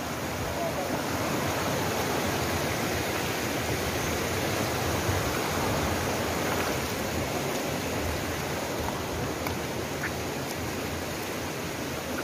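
The Tubigdaku River in Barangay Kahupian, Sogod, Southern Leyte rushes past in a constant broadband wash that holds steady without a break.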